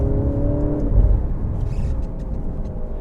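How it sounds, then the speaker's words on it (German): 2020 Alfa Romeo Giulia Veloce with a 280 hp engine accelerating uphill, heard from inside the cabin: a low steady engine drone with rising harmonics early on, then a smoother continuous whir, with no talking. "berghoch, bin ich mal ruhig und ihr hört den Sound"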